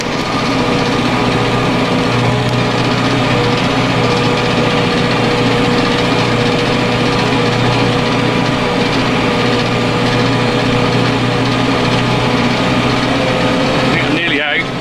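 A tractor engine drones steadily and loudly while ploughing a grass field, a constant close hum with no breaks across the whole stretch.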